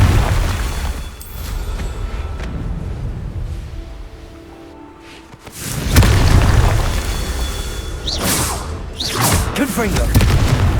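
Confringo explosive spells cast in the game Hogwarts Legacy, a run of loud booming blasts and crackling bursts that surge again after a brief lull, with several sharp hits near the end.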